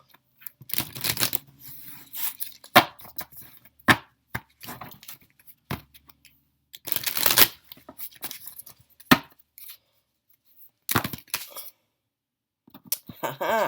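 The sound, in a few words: tarot cards being shuffled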